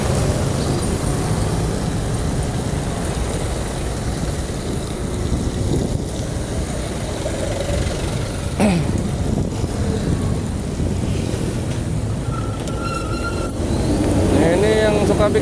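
Continuous road traffic in a weekday after-work traffic jam, a dense engine drone and rumble with wind buffeting the microphone, and occasional louder passing vehicles.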